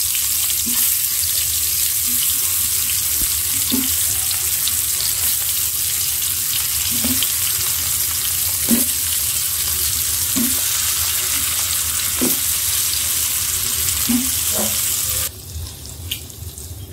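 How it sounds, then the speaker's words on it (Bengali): Food fries in hot mustard oil, a continuous loud hiss with a few soft knocks of stirring spaced through it, the hiss dropping away suddenly near the end. "ভেজে নিচ্ছি, তেলটা গরম করে নিলাম। সরষের তেল দিয়ে রান্না করতেছি আজকে"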